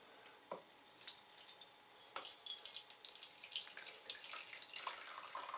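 Boiled water is poured into a container in a small, faint trickle and splash that builds gradually, with a few clinks and light knocks and no voices.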